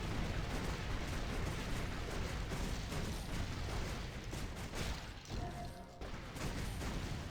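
Cannon fire from a Fusillade attack in the Warcaster video game makes a dense, continuous barrage of booming blasts and crashes, loud and unbroken apart from a brief dip near the end.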